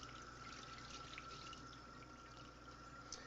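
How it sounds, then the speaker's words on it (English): Salted meat rinsed under a running tap, a steady close wash of flowing water with faint dripping and no talk. "Get a good rinse."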